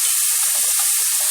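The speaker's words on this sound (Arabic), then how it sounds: "دلوقتي انا حطيت البصل على النار اهو زي ما احنا شايفين" Onions frying in a hot pan on the stove, giving a steady, bright sizzling hiss that runs unbroken and fairly loud for the whole short stretch, with no talking.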